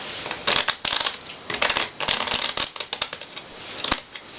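A deck of playing cards being shuffled, a close, crisp run of riffling bursts and flicks repeating for several seconds, with no voices.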